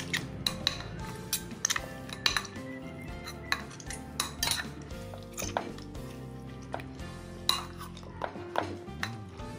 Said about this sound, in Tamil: நல்லா இத மேஷ் பண்ணிடலாம்